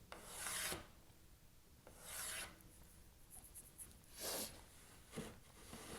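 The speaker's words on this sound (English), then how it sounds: "I will use the jig to draw a line across it" Pencil or marker rasping across wood along a cabinet jig, several short scratchy strokes with pauses between them, close and fairly quiet with no talking.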